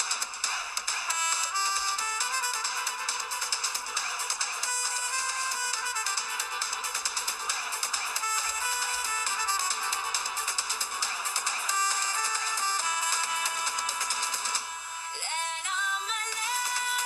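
A phone ringtone plays loudly and continuously in a Tamil TV drama scene, a bright melodic electronic tune repeating for many seconds with no talking over it.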